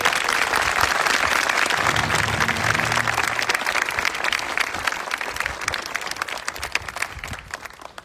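A graduation ceremony crowd applauds the school's teachers and staff, loud sustained clapping from many people that thins slightly toward the end, with no speech over it.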